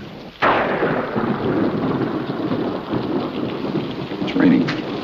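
Heavy rain pours steadily, opening with a sharp crack of thunder and followed by low rumbles rolling beneath the downpour.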